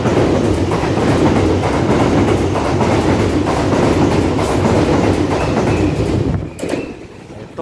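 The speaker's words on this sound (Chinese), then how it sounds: "有列车通过" A Taroko Express TEMU1000-series tilting train (sets TEMU1010 and TEMU1009) passes through Ruifang station in Taiwan with a loud, close roar and rhythmic wheel clatter, then drops away abruptly near the end.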